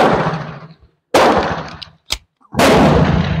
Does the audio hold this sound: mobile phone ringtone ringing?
no